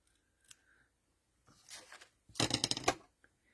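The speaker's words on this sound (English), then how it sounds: "Let's trim those tails." Scissors trimming paper tails on a handmade Christmas fun-fold card, a few soft snips followed by a brisk burst of close cutting and rustling paper near the end.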